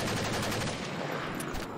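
Rapid gunfire from a Pokemon game with guns, a dense, continuous burst of shots that stays loud and steady throughout.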